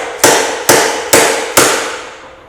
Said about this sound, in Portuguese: Aqui depois de rosqueado, prende bem, você começa a vir batendo.